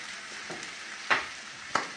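Moose lips cooking in a pan give a soft, steady sizzle, and two sharp scraping stirs break through it, one near the middle and one near the end.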